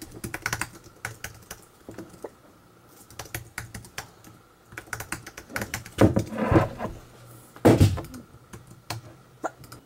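Someone types on a computer keyboard to fill out a survey, the keys clattering in uneven bursts of quick taps with short pauses, growing louder and busier near the end, close by with no talk.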